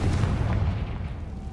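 A Confringo blasting-spell explosion from Hogwarts Legacy on PS5 sounds as a heavy, rumbling boom that fades out slowly, with no voices over it.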